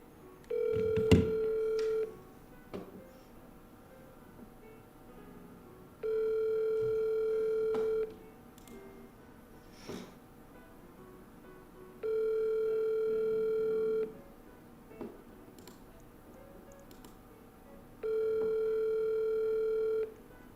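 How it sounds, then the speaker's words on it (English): An outgoing telephone call ringing out, with four steady ringback tones of about two seconds each, repeating every six seconds with quiet gaps between, faint and alone. "So let me make a quick phone call."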